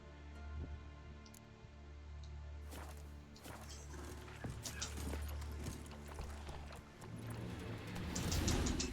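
Hoofbeats of Geralt's horse Roach in The Witcher 3: Wild Hunt, a steady clip-clop of hooves under low ambient music, moderately close, growing busier and louder toward the end.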